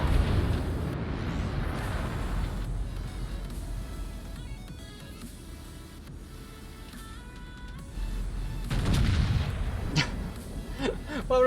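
A naval gun fires a round in a warship video game, a deep heavy boom rising out of steady engine and sea rumble late in the clip, with a lighter crack just after.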